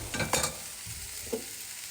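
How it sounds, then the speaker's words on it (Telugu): Onions and curry leaves frying in a pan, with a steady quiet sizzle and a few brief scraping stirs near the start. "ఉల్లిపాయ వేసుకొని కరివేపాకు వేసుకొని ఫ్రై చేస్తున్నాం లైట్గా గోల్డ్ వచ్చేంత వరకు"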